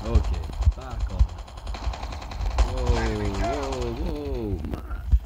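Light machine gun fire from Call of Duty Mobile comes through as loud repeated bursts of sharp gunshots, with someone talking over much of the action.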